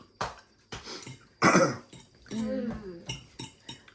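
A sick man coughs several times in short harsh bursts, close by, with a voice speaking briefly between them and faint clinks of dishes.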